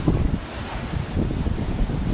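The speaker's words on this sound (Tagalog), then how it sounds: "Guys, malaki pong alon nito guys" Big waves roll in during bad weather at Kawit, Cavite, a rough rumbling wash of surf mixed with gusting wind buffeting the microphone, surging in rises and falls.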